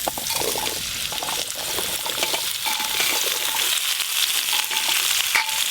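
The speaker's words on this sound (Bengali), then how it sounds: "এই যে এখানে মূলো, আলু, ওলকপি, বেগুন আর শিম নিয়েছি, সব একসঙ্গে কড়াতে দিয়ে দেব" Radish, potato, kohlrabi, eggplant and beans fry together in oil in a wok, a loud, continuous sizzle with crackling and bubbling throughout.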